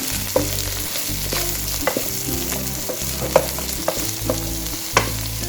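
Crushed cabbage filling fries in a pan while being stirred, steady sizzle punctuated by sharp spoon scrapes and taps every half second or so, close and clear with no voices.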